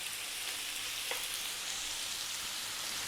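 Lamb seared over high heat in a hot pan, giving a steady, even sizzle with a faint stirring scrape, close and fairly quiet.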